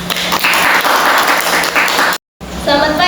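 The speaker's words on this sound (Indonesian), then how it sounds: "Tepuk tangannya." Schoolchildren in a classroom applaud after a student presentation, a loud, dense clatter of clapping that cuts off abruptly, followed by a short stretch of voices speaking.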